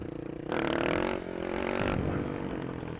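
Supermoto motorcycle engine revving hard as the rear wheel spins during a wheelie, a loud close roar that surges, dips and rises again over three seconds.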